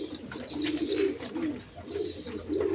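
A male racing pigeon coos close by in a repeated, low, throaty rolling rhythm, with faint high background tones.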